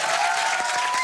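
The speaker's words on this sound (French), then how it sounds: "Sur vos applaudissements" Studio audience clapping for a television game show host, a dense steady wash of many hands that stays loud and even through the whole brief moment.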